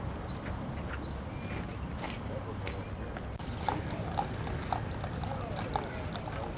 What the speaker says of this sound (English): There's another horse-drawn carriage.